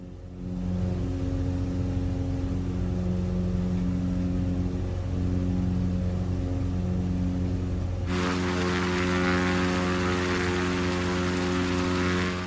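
A propeller aircraft sits on the ground in Microsoft Flight Simulator, giving a steady droning engine hum with strong tonal harmonics that turns into a louder, brighter roar partway through, with no talk.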